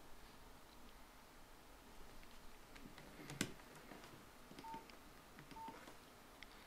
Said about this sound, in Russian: Позвоним с простого мобильного на мобильный телефон с защитным устройством